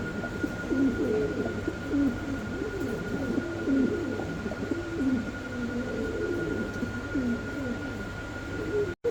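Fancy pigeons at a pigeon market give repeated soft, rhythmic cooing calls close by, layered over a low steady background hum.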